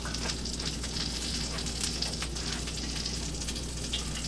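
Onions fry in a hot pan with flour, giving a steady, close crackling sizzle that carries on without pause, with no voices.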